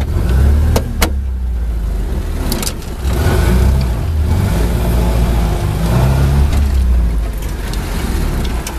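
A UAZ 469 off-road vehicle drives in four-wheel drive. The engine surges and revs loudly under load, with sharp mechanical clunks and rattles from the body over rough ground.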